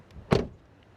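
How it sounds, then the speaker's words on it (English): Door of a new Seat Arona (2026 facelift) shutting, a single short solid thud close by against quiet surroundings. "then door closing sounds"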